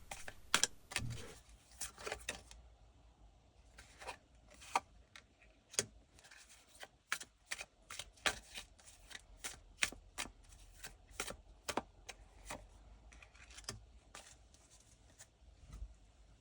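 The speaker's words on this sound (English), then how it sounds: "let's pull a few more cards from the Kalevala tarot" Kalevala tarot cards are shuffled and drawn, giving soft, close riffling and sharp taps and flicks in uneven bursts, quiet and with no speech.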